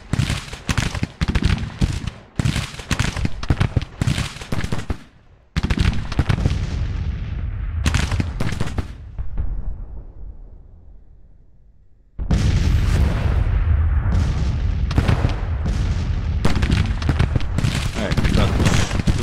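Artillery batteries firing in the Grand Tactician: Civil War game, loud repeated booms and crackling volleys rolling in dense bursts, with a long decaying rumble and a brief near-silent gap before the barrage resumes.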